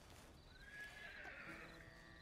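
A horse in the Red Dead Redemption 2 video game gives a clear, drawn-out whinny with clip-clop hooves beneath it, a single call rising and falling over a couple of seconds with no talk.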